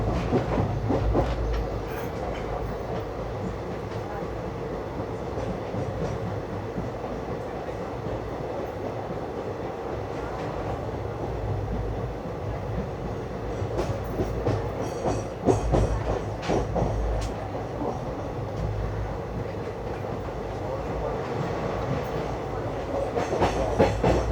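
Interior ride aboard the Mangaluru–Mumbai Superfast Express (12134) approaching the Parsik tunnel, steady low rumble of coaches with rhythmic clickety-clack of wheels over rail joints and occasional louder thumps, continuous throughout.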